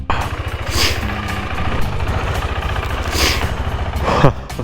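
A motorcycle fitted with a new top box idling close by before a long ride, a steady low rumbling putter throughout with a few brief rises and background noise.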